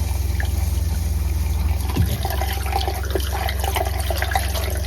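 Steady rushing of water flowing in a constant stream close by from an RV water line while flushing a Truma Combi water heater, with a low hum underneath and faint clinks.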